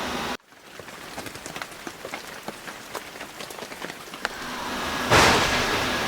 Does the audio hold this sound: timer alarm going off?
no